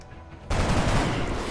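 Gunfire erupts in the video game XCOM Long War as a soldier takes a shot: after a quiet moment, a sudden loud burst of rapid shots fills the rest of the clip.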